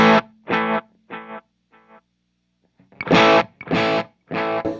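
Electric guitar notes played through an echo effect, run in stereo into a Shiva amp and a Matchless amp, loud distorted bursts with repeating echoes between gaps of near silence, no talking.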